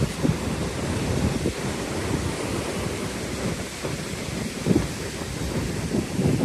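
Heavy surf roars continuously at Laomei Green Reef with wind buffeting the microphone, waves surging and crashing in a loud, unbroken wash.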